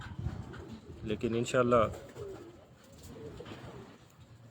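A pigeon cooing at a rooftop loft, a short rolling coo heard close, with someone speaking over and around it.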